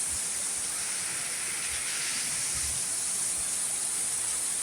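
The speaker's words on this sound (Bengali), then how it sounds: "কি বৃষ্টি হইতাছে।" Heavy rain pours down outside a house early in the morning, a constant loud broadband hiss with no pauses and faint low thumps underneath.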